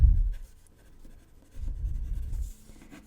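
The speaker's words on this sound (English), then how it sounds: "If you focus on just the tip of my pencil, it is very scribble, scrabble, scratchy." Colored pencil strokes scratch across paper in two close bursts of rapid scribbling, soft and dry, with a short quiet gap between them and no speech.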